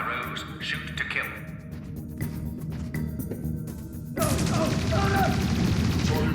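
Automatic gunfire in Dreamfall Chapters rattles in bursts under a tense scene, growing louder and denser in the final seconds, with voices and other game sounds around it.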